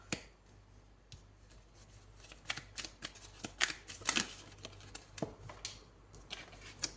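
Tarot cards handled and drawn from a deck, giving a run of quick, soft snaps and flicks with a denser burst of card sounds midway, close and quiet with no talking.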